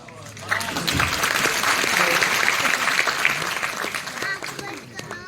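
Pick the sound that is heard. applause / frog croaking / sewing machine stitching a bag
applause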